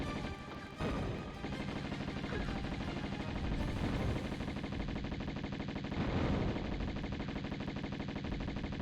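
Gunfire in the video game Tomb Raider: loud, dense rapid shots and crashing impacts running continuously with a brief drop near the start, heavy and sustained throughout with no talking.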